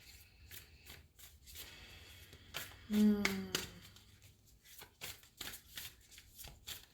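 A deck of affirmation cards is shuffled close up during a tarot reading, soft repeated riffling and rubbing with one louder burst of ruffling in the middle, quiet overall, with faint talk around it.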